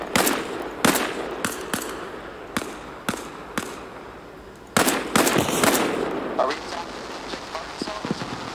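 Bursts of machine gun fire from a military shooter video game assault on a Russian base, several separate rattling volleys spaced across the clip, loud and close, with a denser run of shots midway and players talking over it.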